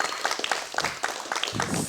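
An audience at an Indonesian legislative candidates' stage event gives a short burst of clapping, with individual claps distinct and crowd noise swelling near the end.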